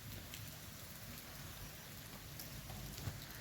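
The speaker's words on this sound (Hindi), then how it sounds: "बारिश हो रही है लगातार।" Steady monsoon rain falls without a break, a soft, even hiss of drops on surfaces that stays constant throughout with no voices.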